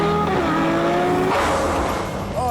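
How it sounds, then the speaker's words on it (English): A naturally aspirated supercar road car revs hard and accelerates, its engine note climbing in pitch, dropping at a gear change and climbing again, loud and close with some tire and road noise. "It's the most powerful, naturally aspirated engine ever found in a road car."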